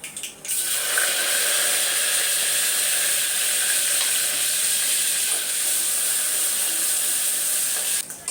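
Cumin and mustard seeds sizzle in hot oil for a sambar tempering, a loud, steady, close crackling hiss that runs almost unbroken for several seconds with no talking.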